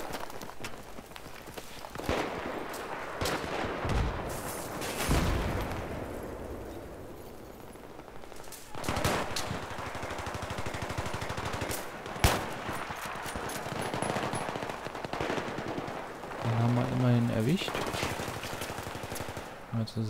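Gunfire and explosions in the video game Battlefield 3, with rapid automatic bursts, sharp shots and booming blasts across a busy multiplayer battlefield, loud and close, while someone talks over the action.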